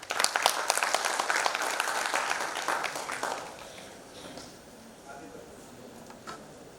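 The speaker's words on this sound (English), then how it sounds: "Can we have a louder round of applause for Mr. Mayan?" A conference audience at a digital transformation conclave and awards inaugural in Guwahati, Assam applauds in a dense, steady burst of clapping that fades into quieter room noise after a few seconds.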